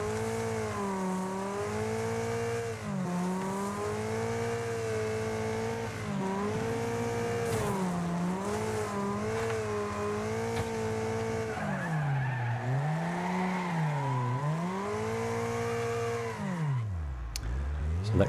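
Engines roaring and tires squealing as cars race and skid in the Wreckfest video game, a continuous loud drone of revving with wavering pitch and repeated skids, a crash near the end.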